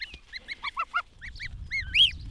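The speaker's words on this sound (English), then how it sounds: "I've been entirely distracted by geese" Several geese honk in a rapid run of nasal calls, close and loud, ending in a longer rising honk, with faint wind or movement underneath and no talk.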